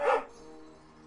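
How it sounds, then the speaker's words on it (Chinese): A single short dog bark or yip from a library sound effect of a dog together with a cow, loud at the start and then fading into quiet. "这是狗和牛在一起"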